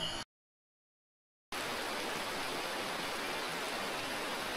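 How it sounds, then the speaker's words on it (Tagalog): Heavy overnight rain falls steadily in mountainous Marinduque, a dense, even hiss of downpour that continues unbroken apart from a short silent gap near the start. "Magdamagang ulan, 3:30 pala ang hanggang ngayon na ulan."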